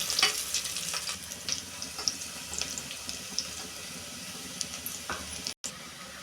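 Chopped onions fry in oil in a pan for a chickpea masala, with a steady soft sizzle and occasional scraping stirs, close and fairly quiet.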